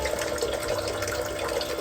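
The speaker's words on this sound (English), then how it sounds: "One of them automatically pours 600 milliliters of water." A small faucet in a van sink pours a measured dose of water automatically, a steady close splashing stream that runs loud and unbroken.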